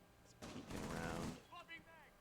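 A short burst of gunfire in a Rainbow Six Siege match, rising from a quiet background and lasting about a second, followed by brief voices.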